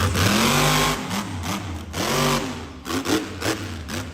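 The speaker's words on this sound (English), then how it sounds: "we're getting to hear the throttle rhythm of John Zimmer in full force with those zoomies" The monster truck Uproar at a muddy night show in Miami, Oklahoma, its engine throttle revving in quick rhythmic bursts that surge and drop repeatedly, loud and close.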